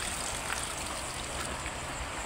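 River water flowing steadily, a soft continuous rushing hiss with no voices, fairly faint and even throughout.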